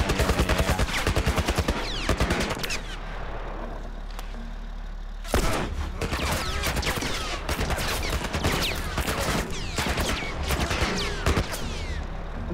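A truck-mounted machine gun firing in The Last of Us Part 2 video game: long, loud, rapid bursts of gunfire with brief pauses, over a low engine rumble.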